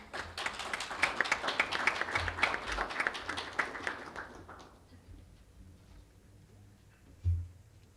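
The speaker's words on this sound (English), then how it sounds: "Let's welcome him with a big applause." An audience at a diplomatic gathering applauds to welcome an ambassador: brisk, crowded clapping for about five seconds that then thins and dies away, followed by a single soft thump near the end.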